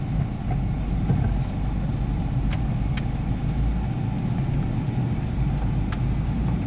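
A Ford Ranger pickup truck engine, after a top overhaul, runs at a steady, even rumble throughout, with a few faint clicks on top and no speech.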